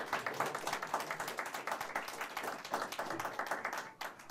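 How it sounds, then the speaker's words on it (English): An audience at a live talk show applauds with dense, continuous clapping that holds steady for several seconds, then briefly dips and picks back up near the end. "Rob, Dan, Liz deserves a longer applause than that."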